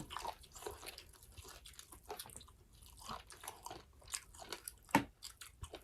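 Crispy pork belly being bitten and chewed with spicy papaya salad, a run of close, quiet crunches and chewing sounds with no talk.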